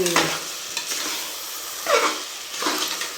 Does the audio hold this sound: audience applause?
no